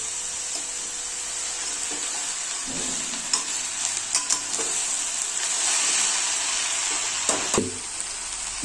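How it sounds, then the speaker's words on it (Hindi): Chopped tomatoes sizzle in a pan of frying bhindi aloo bhujia (okra and potato) while a spoon stirs them through with scraping clatters, steady and close. "इसमें अब टमाटर ऐड कर देंगे और इसे अच्छे तरीके से मिक्स कर लेंगे।"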